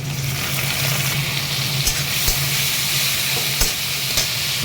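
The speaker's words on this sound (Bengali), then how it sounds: "চলো, হাই ফ্লেমে মাছটাকে 2-3 মিনিট ভালো করে ভেজে নেবো।" Loud, steady sizzle of prawns frying over high heat, with occasional soft scrapes of a spatula stirring through the pan.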